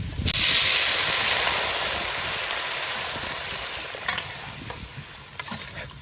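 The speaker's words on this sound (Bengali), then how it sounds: "মশলা কষানো হয়ে গেছে, এবার দিয়ে দেবো জল।" Water poured into a pan of cooked spice paste, a loud burst of hissing sizzle that slowly settles, with a few sharp clinks of a utensil near the end.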